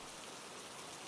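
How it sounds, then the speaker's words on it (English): Steady, close rain patters onto stretched canopy fabric on a rainy London night, a dense, even hiss of countless droplets with no voices. "Under the canopy, the rain sounds different, more muted,"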